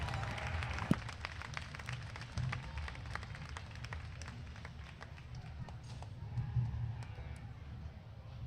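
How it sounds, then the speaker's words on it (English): Ringside crowd at a market lamb show applauding steadily, a dense patter of clapping carried under a loud announcer's voice throughout. "Let's give them a nice round of applause as they head on back."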